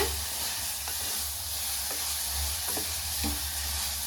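Green gram dal with chaat masala being stirred in a pan, a continuous close sizzle with a low rumble and soft scraping strokes every second or so; no one speaks.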